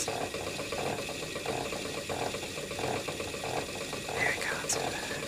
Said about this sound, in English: my yarn is all building up on the bobbin that's on the wheel